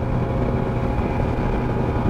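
A two-stroke outboard motorboat speeds across a lake at about 45 mph, giving a steady, close, continuous engine drone mixed with rushing water and wind.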